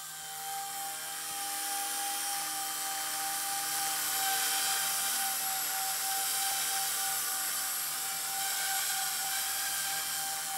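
Blade 130X RC helicopter in slow flight, a steady high-pitched whine of the small motor and rotor with a constant tonal buzz that swells slightly and holds, with no talking.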